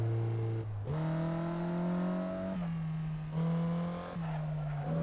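A race car engine in a racing simulator game drones steadily and loudly, its pitch stepping abruptly up and down several times as the driver shifts gears.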